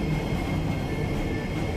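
A metro train at Singapore Changi Airport gives a steady, close rumble and hum, a continuous low drone with a faint high whine and no talk.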